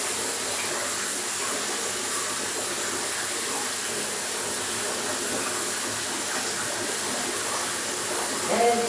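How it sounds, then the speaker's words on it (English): Cold water gushes steadily into a bathtub, a loud, even rushing that runs the whole time without pause. "I'm just having a bath and cooling down my bath."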